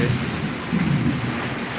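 Thunder rumbles low and continuous during a thunderstorm, with rain hissing steadily and some wind buffeting the microphone over the short stretch.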